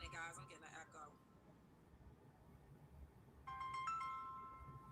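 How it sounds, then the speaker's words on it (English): A phone ringtone chimes briefly and faintly, a short electronic tone rising out of low background noise after a stretch of muffled talk. "my phone was trying to ring."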